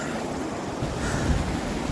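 Water from a small mountain waterfall on Erciyes Koç Dağı rushes in a steady broadband wash, close and moderately loud, with no talking.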